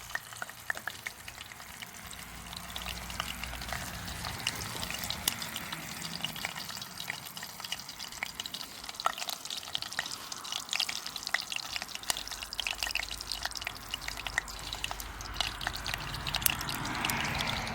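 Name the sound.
mustard seeds and cumin frying in oil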